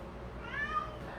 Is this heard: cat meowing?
yes